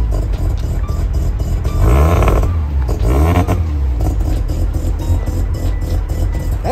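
Mazda RX-7 13B rotary engine swapped into a Subaru BRZ, running loud and close with smooth revving swells rising and falling, no talk over it.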